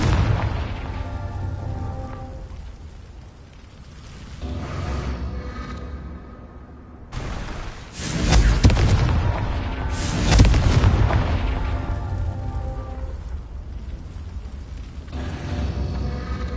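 Confringo spell explosions in Hogwarts Legacy boom loudly and close, heavy bursts rolling over a constant rumble, with two strong blasts near the middle and continued crackling and roar.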